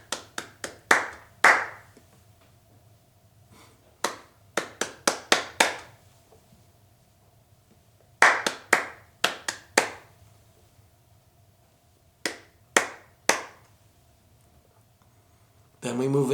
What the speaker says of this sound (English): sometimes clapping and patting,